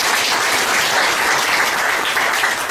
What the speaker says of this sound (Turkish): Şöyle güçlü bir alkış istiyorum Hatice.